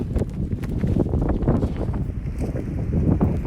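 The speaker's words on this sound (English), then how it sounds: "The wind's blowing pretty good." Steady wind buffeting a pontoon boat under way on a river, a continuous rough rumble with gusty microphone noise throughout and no voices.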